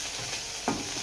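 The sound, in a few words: sautéing noodle ingredients in a pan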